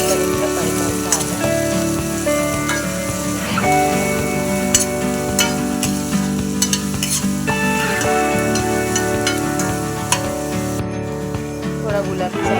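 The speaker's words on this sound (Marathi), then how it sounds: "आता त्याच्यात आपण कांदा छान असा गुलाबी होईपर्यंत परतायचा आहे." Onion sautéing in hot oil with cumin seeds for a baingan bharta, a loud continuous sizzle with scraping stirs and clinks of a spoon against the pan throughout.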